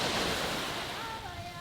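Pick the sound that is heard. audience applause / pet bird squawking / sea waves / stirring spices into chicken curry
sea waves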